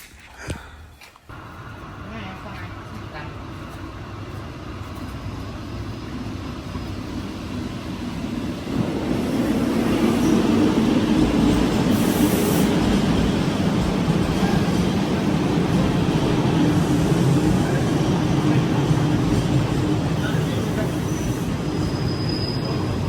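A train pulls into a station with a rising rumble that swells into a loud, sustained roar of wheels and carriages, with faint squealing, continuing steadily to the end.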